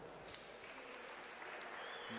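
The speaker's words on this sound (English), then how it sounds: "Let's give Peter Kutsia a round of applause." Sustained applause from a crowd at a national swimming championship finals, honouring a swimmer: dense, even clapping that continues the whole time and rises a little near the end, with faint voices mixed in.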